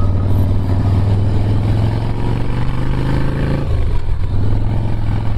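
A 2005 Harley-Davidson Softail Springer Classic motorcycle under way, its V-twin engine rumbling in a loud, steady low throb with a brief dip in pitch as the rider shifts, close to the microphone with wind noise.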